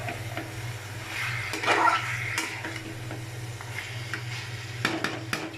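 Spices being stirred into duck curry in a pan make a low simmering sizzle, with scraping strokes of a spoon and occasional clinks against the pan, close and continuous without speech.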